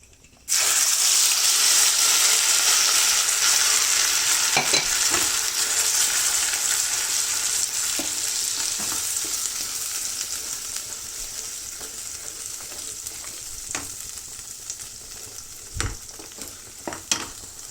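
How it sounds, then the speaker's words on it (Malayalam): Spices with cardamom sauté in hot oil in a pan for a paneer curry, a loud, steady, close sizzle that fades slightly over time, broken by occasional stirring clicks. "എണ്ണ തെളിഞ്ഞ് വരുന്നത് വരെ വഴറ്റണം"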